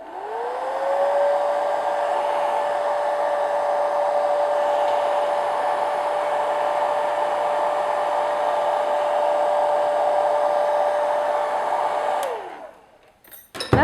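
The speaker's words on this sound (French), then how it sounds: "Je vais utiliser mon sèche-cheveux pour sécher un petit peu plus vite." A hair dryer blows steadily over a sheet of watercolour paper, spinning up, holding one loud, even whine for about twelve seconds, then winding down and clicking off.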